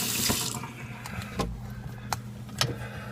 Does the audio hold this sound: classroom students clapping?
no